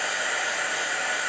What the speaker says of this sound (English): I am actually using my heat gun to help them dry faster.